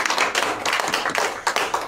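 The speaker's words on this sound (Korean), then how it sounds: "박수로 한번" Applause from a church congregation at a monthly worship praise gathering, dense, steady clapping close by that carries on without a break and with no talk over it.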